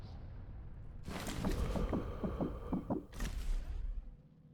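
A rapid heartbeat thumps in the video game Sniper Elite, a run of about eight quick, evenly spaced low pulses over a humming background, rising and then fading, with no speech.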